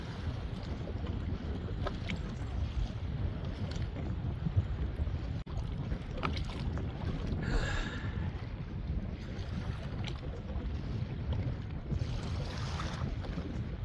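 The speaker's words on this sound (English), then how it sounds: "This ain't gonna work, guys. Too much wind." Strong wind buffets a Pelican Bass Raider 10E fishing kayak on Lewisville Lake, a constant roaring rush with gusts and faint lapping water, loud and close, with no talking.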